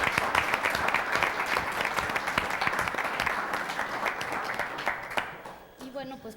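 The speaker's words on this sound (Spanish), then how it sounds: "recibamos con un fuerte aplauso" A seminar audience gives a guest speaker a hearty round of clapping at a talk on Middle East geopolitics. The dense applause runs strong, then thins and fades as a voice begins speaking near the end.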